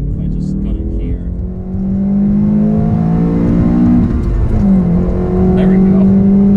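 A 2015 Honda Civic Si with a high-revving four-cylinder engine accelerates at full throttle from inside the cabin, engine pitch climbing steadily, dropping at a gear shift, then rising again, loud and close.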